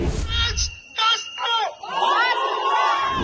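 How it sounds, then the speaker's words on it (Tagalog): A crowd shouting and jeering loudly, voices overlapping in rising bursts and drawn-out yells, close and raucous. "Napuno ng kantsaw at sigaw si Castro mula sa mga anti-CPP, NPA, NDF."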